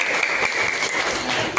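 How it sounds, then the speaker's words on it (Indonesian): A roomful of participants at an Indonesian teacher-certification session claps together in a brief, dense burst that stays steady and close throughout, with no speech over it. "Tepuk tangan dulu semuanya."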